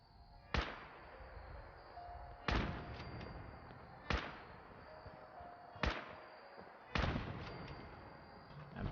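Automated turrets in Fallout 4 fire five sharp, evenly spaced bangs about every one and a half to two seconds, each followed by a short ringing tail, fairly distant and faint over quiet background.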